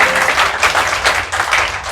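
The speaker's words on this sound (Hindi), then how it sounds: "पीछे से जोरदार ताली बजी, आगे वाले भी बजाओ एक बार जोरदार।" Hearty applause from the back of an audience at a comedy poetry recital in Varanasi, dense continuous clapping that stays loud throughout with slight swells.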